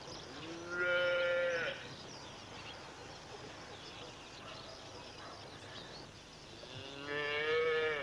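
Two long, low moos from a cow, a few seconds apart, over a quiet outdoor background.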